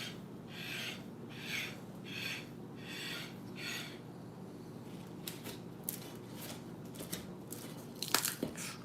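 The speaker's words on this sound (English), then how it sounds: "It's really hot, crunchy, soft at the same time." Crunchy bites and chewing of hot homemade meatball pizza, close and soft at first, then sharper crackling crunches near the end.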